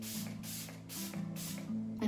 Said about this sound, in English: I spray a few spritzes